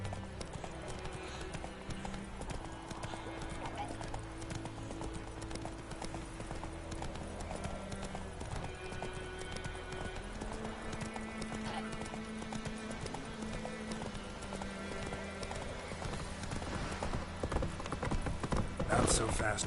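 Roach the horse galloping in The Witcher 3 video game, a fast continuous drumming of hoofbeats with occasional snorts, over game music and some voices speaking.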